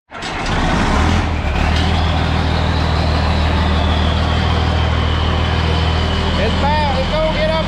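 A John Deere 4640 tractor runs steadily while driving down a road, its loud, constant diesel drone close and unbroken, with someone talking over the engine noise.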